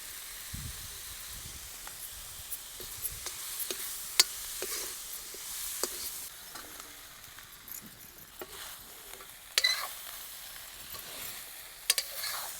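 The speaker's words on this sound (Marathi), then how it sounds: "कांदा टाकला आपला कांदा आता परतून झाला आहे हळद टाकून घ्यायची त्याच्यात" Onions sauté in a pan as turmeric is added, a soft continuous sizzle broken by scattered clicks and scrapes of stirring.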